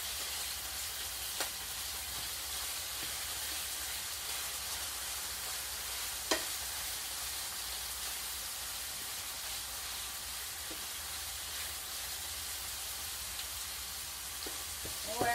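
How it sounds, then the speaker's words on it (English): Hamburger meat browning in a pan, giving a steady, fairly quiet frying hiss that runs throughout, with a few faint clicks and one sharper knock from the utensil. "I'm just going to brown this hamburger so it looks like it's done."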